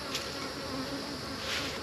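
Honeybees buzz in a steady, dense hum during a backyard hive inspection, a continuous close swarm drone with no talking.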